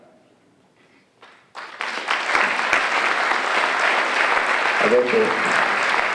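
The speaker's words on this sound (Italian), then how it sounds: "vi chiedo un applauso" After a few quiet words from a speaker in an Italian civic hall at a committee's year-end event, a full audience bursts into sustained applause that swells and holds steady to the end.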